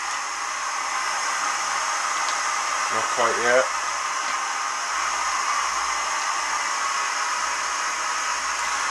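A Fire Maple Star X2 camping stove burner roars as a steady, loud broadband hiss through the whole stretch, with a brief spoken remark over it partway through.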